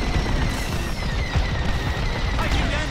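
Laser cannon fire in Star Wars: Squadrons, with rapid repeated blasts and booms layered over a loud, continuous space-combat din and engine hum, steady throughout.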